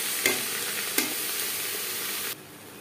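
Salted onions frying for a Bihari-style potato and mutton curry, a continuous bright sizzle with two quick stirring scrapes, then cutting off abruptly near the end.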